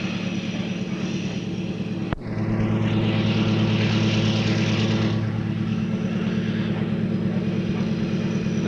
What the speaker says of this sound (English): The locomotive is pushing fairly hard, and you can hear the exhaust.